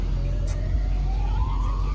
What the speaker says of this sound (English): They need to stop playing that damn siren.